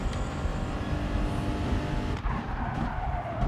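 A race car skids and scrabbles for grip after braking late into a corner, a loud, continuous tire-and-engine roar that dips briefly near the end, with no talk.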